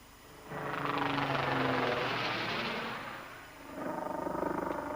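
A Westland Lynx military helicopter in flight, its broad rotor and engine roar swelling loudly, easing off, then returning, with no voices.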